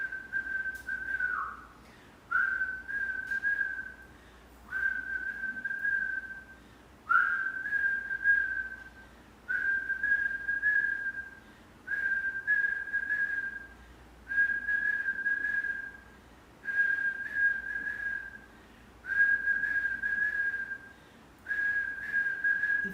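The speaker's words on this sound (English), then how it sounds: "Whistle." A person whistles during a kundalini yoga breathing exercise: nine steady, sustained single-pitch tones, each a couple of seconds long and separated by short pauses, close and clear with no talking.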